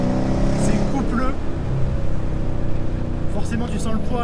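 Dodge Challenger R/T muscle car engine rumbles in a steady, deep idle burble throughout, with someone talking over it.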